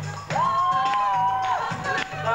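A crowd cheers and whoops loudly at a 2001 old-school breakdance battle in Inhulets, with a sustained whistle-like tone riding over the steady noise of the audience for about two seconds.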